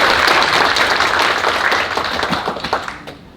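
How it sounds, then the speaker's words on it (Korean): Audience applause at a National Assembly forum on the post-COVID Green New Deal, loud dense clapping that thins into scattered claps and fades out toward the end. "양원영 국회의원 당선인 박수를 모시겠습니다"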